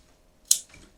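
Sharp flower scissors make a single crisp snip through a rose stem, close and clear against a quiet room.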